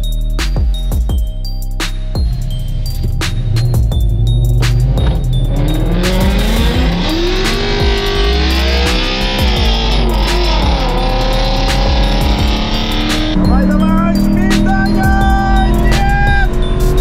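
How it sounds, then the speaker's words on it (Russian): A 5-litre Ford Mustang racing a BMW E90 diesel, loud engines roaring and revving hard with rising gear pulls, shifts and possible tire squeal, constant and close throughout. "поедет 5-литровый Мустанг"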